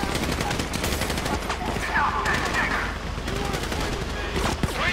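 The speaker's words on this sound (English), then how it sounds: "You hear that gunfire?" Bursts of automatic and single-shot gunfire in a shootout in the video game GTA 5, rapid repeated cracks layered under shouted dialogue and tense music.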